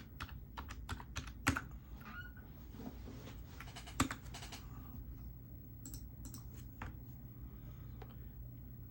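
Rapid, uneven keystrokes on a computer keyboard while a math fraction is entered, close and moderately loud, with sharp individual clicks clustered in bursts over a low background hum.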